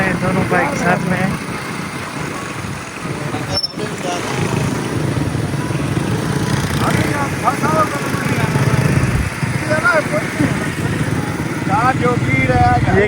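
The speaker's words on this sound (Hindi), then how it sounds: "ये चल रहे हैं दोनों बाइक साथ में है।" Two motorcycles ride together along a green roadside in Pakistan, a steady close engine drone filling the whole stretch with wind rumble, while voices talk intermittently over the noise.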